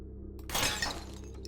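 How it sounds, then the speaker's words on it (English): Glass is smashed in the FPS Creator game Sail to the Moon: a single sharp shattering crash with a brief tinkling tail, heard alone over a low steady background hum. "You have to smash the glass."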